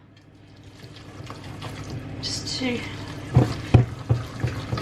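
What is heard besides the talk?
water added to lentil cake mixture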